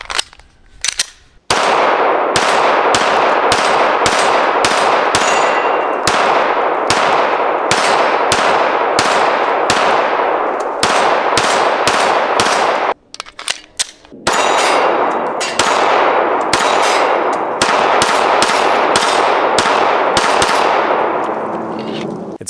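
A SIG P365 Macro pistol fires rapid, loud shots with metallic clangs from steel targets ringing after them, in dense strings that pause briefly once partway through before the firing resumes.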